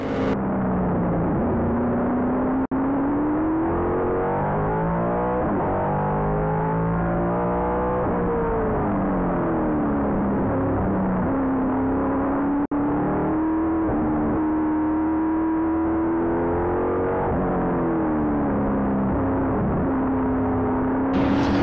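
An F5000 racing car engine heard from onboard Sefton Gibb's car at Powerbuilt Tools Raceway screams loud and close without a break, its pitch climbing and falling through the gears as it accelerates and lifts.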